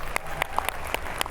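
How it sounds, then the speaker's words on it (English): Short burst of audience applause in a Miami-Dade County business gathering, steady clapping at moderate loudness with sharper individual claps standing out. "You better applaud for that."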